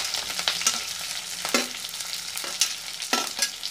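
Curry leaves and onion frying in a black iron pan alongside cooked garlic for puffed-rice upma: a steady close sizzle broken by several scraping stirs and spatula knocks, with no talking.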